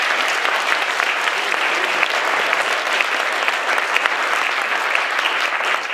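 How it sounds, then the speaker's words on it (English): Steady, dense applause from an audience at an evening community event, a continuous wash of many hands clapping, loud and sustained without a break. "a round of applause for Nancy"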